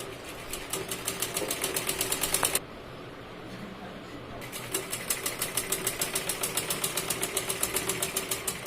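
Sewing machine stitching a blouse with a lock stitch: a steady, rapid mechanical chatter that stops for a couple of seconds midway, then resumes at the same even pace.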